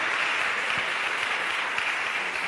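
A church congregation applauds during a sermon, a dense, steady wash of clapping that holds at even loudness from start to finish with no voices over it.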